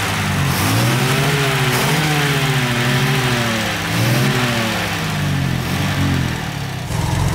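A 1958 Lancia Aurelia B20 S GT's 2.5-litre, 112 hp V6 engine idles steadily and rumbles close by, its pitch rising and falling as it is revved a few times.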